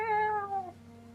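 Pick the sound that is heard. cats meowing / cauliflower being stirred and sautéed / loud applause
cats meowing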